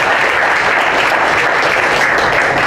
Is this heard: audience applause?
yes